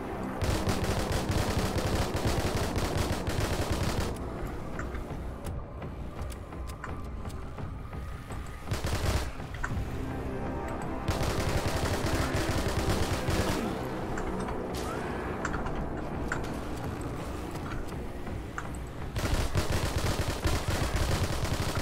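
Dense, continuous gunfire from the zombie shooter game Dead Frontier, rapid automatic bursts hammering almost without pause, loud and close, with short gaps where firing briefly stops.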